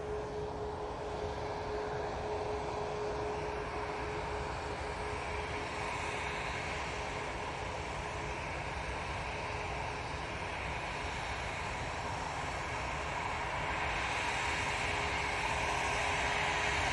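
An airliner departs Manchester Airport bound for Zakynthos, a continuous distant jet rumble and hiss that swells slightly toward the end, with no voices.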